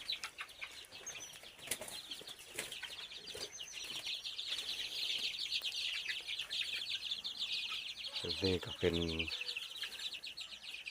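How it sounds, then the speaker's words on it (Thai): Young chickens on a farm, a dense, continuous mass of high chirping and clucking from many birds together, steady throughout, with someone speaking briefly over it. "ไก่น้อยนี่ก็แข็งแรงดีพี่น้อง"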